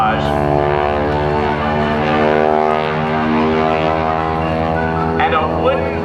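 A steel-tube-fuselage biplane with wooden, fabric-covered wings flies at a naval air station airshow, its propeller engine droning steadily and loudly throughout, with no break in the sound.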